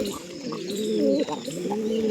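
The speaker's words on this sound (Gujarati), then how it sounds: "ત્યાં આપણે રાખોડી કબૂતર બેઠો છે" Grey pigeons coo softly nearby, a few low rolling calls running together over a quiet background.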